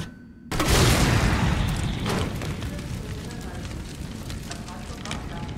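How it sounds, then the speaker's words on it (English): Grenade launcher round exploding in a Resident Evil game, a sudden loud boom followed by a long crackling, fiery rumble that slowly fades. "I also have a grenade launcher."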